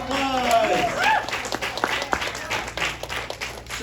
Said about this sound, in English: Lito, round of applause.